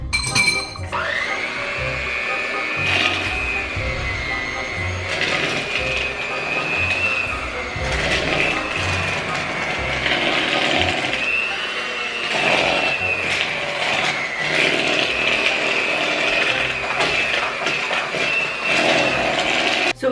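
An electric hand mixer whips cupcake batter with a steady, close motor whine and a gritty rattle of beaters against the bowl, holding for about twenty seconds with occasional clinks.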